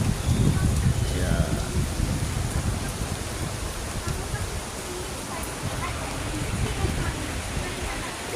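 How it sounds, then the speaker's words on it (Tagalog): Continuous heavy rain falling during a stormy spell, a steady dense hiss with low rumbling underneath, constant and close throughout with no break. "walang humpay ang ulan mula gabi hanggang ngayon."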